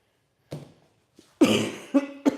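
A few sharp coughs, close and loud, the last ones coming in a quick cluster after a quieter pause.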